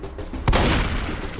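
Shotgun fired in a video game: one sharp, loud blast arrives about a third of the way in, then a broad rumbling tail that lingers to the end over low background noise.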